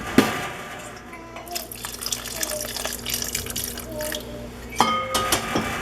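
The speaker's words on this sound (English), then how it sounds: "I think I'm personally gonna add a little bit more water to this." Water runs from a tap and is poured into a pot of Jamaican stew peas with pig's tail, starting with splashy bursts, settling into a steady trickle, then splashing again near the end, close and moderately loud.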